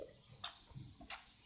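Water splashing in the Minecraft video game: a faint, soft wash of water with two brief splashy bursts a little over half a second apart, with no talking.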